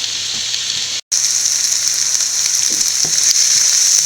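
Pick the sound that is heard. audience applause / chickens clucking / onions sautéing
onions sautéing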